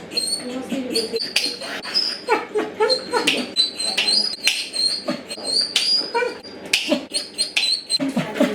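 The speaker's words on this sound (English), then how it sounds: "Some dogs do cry a lot when they're getting groomed" A dog being groomed whimpers and cries in high, repeated whines, close by and steady, with small movements and brief human sounds mixed in.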